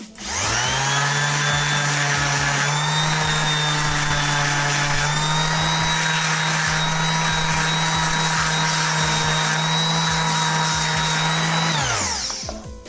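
A power sander works coarse grit against the wooden headstock of a homemade bowed guitar, a steady loud motor whine with a grinding rasp running nearly nonstop for about twelve seconds before spinning down.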